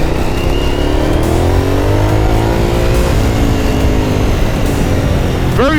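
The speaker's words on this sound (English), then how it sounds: "Once again, never really done full throttle on his bike." A Suzuki SV1000 motorcycle engine runs at full throttle, a loud, sustained, rising roar heard close up, with the pitch climbing through the gears.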